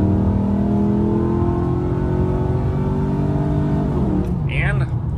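Modified Pontiac GTO with a pushrod V8 pulling steadily at half throttle, a loud, continuous engine drone climbing in pitch with rising revs, then easing briefly near the end as a voice comes in.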